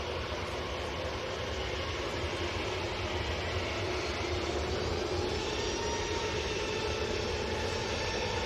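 A Ryanair jet departing Manchester airport for Malaga gives a continuous, even broadband roar, moderately loud and steady across the whole stretch, with no voices over it.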